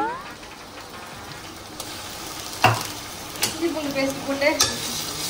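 Curry frying in a pan is stirred with a few sharp scrapes and clanks of a utensil over a low, steady sizzle, growing busier toward the end, with a voice faintly heard.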